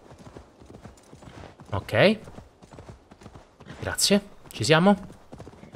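Horse hooves clip-clopping in the video game Assassin's Creed Valhalla, a faint steady patter of hoofbeats running under someone talking throughout.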